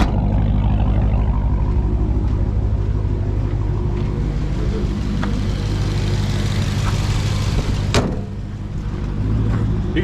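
A Hellcat-engined Chrysler 300 pulls away with a steady deep exhaust rumble close by, a sharp knock partway through, and the engine note holding strong to the end.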